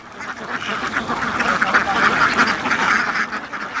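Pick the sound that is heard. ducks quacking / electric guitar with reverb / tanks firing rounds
ducks quacking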